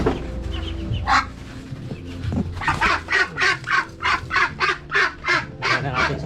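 Backyard chickens cluck near a coop, first in a few scattered calls and then in a steady, rhythmic run of loud, close clucks, with no talk over them.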